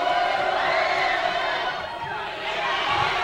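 A crowd at a 1999 high school basketball playoff game cheers and shouts in a packed gym. The roar is loud and sustained, dips briefly, then swells again.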